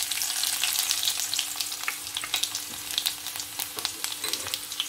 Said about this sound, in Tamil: கடுகு வடிக்க துவங்கிட்டுது